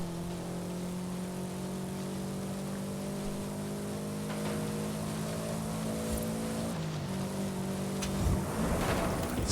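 A Porsche Cayenne racing in a video game gives off a steady, droning engine hum with layered harmonic tones, shifting pitch midway and swelling into a louder, rougher roar near the end.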